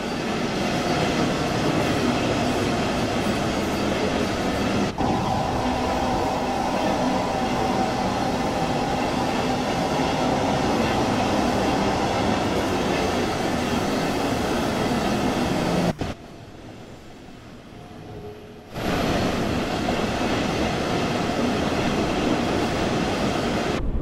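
Train ride in Train Sim World 2 on the Dresden rush-hour Nahverkehr route: a loud, steady rumble of a rail car in motion with wheel clatter, briefly dropping away to near quiet before the running noise returns.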